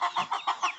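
A flock of hens with a couple of roosters clucks close by, five quick rhythmic clucks in a short burst with no other sound.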